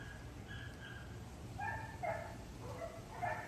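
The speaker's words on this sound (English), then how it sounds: "neighbor's dogs, he keeps them tied up in the backyard for infinity. So they bark a lot." Dogs kept tied in a neighbor's backyard bark and whimper at a distance, faint yips and short barks coming in a few scattered bursts over a steady background hum.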